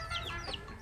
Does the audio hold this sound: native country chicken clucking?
yes